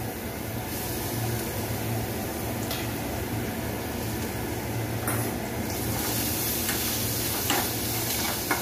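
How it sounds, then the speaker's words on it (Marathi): Soya chunks fry in hot oil in a pan for chili soya manchurian, giving a steady, close sizzle with faint scraping and ticking throughout. "आणि याला चांगले तळून घेऊया। आणखीन 1 चमचा तेल घालत आहे।"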